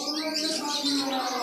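Lutino cockatiels chirping at close range, a quick run of bright, overlapping high-pitched tweets and whistles over a faint background hum.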